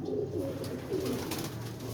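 Sialkoti pigeon with red pearl eyes cooing softly, a few low rolling coos close by over a faint background hum.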